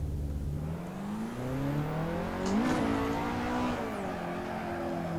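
A car drifting in the Assetto Corsa sim with a clutch kick at the gear limit, its engine droning steadily and rising in pitch partway through, with whirring tire noise and no voices.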